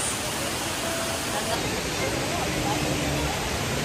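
An indoor waterfall vortex at Singapore's airport roars as a steady, dense wash of falling water, continuous and fairly loud throughout with faint crowd babble beneath.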